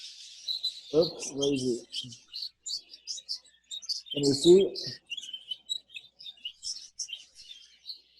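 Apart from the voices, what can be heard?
young budgies chirping in aviary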